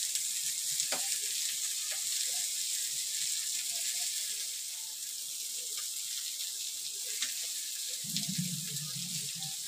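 Mandeli fish frying in oil, Malvani style: a steady, bright sizzle throughout with faint scattered pops and a low rumble near the end, close and constant, without speech.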